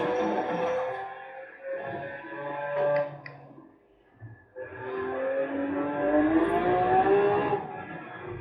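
A Range Rover engine revving in Forza Horizon 4 on a steering-wheel rig, a loud sustained climbing drone through gear changes, dipping briefly before surging again.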